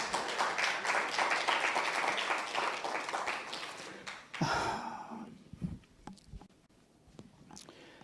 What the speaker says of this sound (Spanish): Vamos a darle un aplauso al Señor por esto.